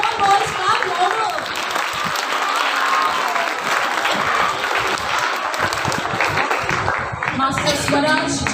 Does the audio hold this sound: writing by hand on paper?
no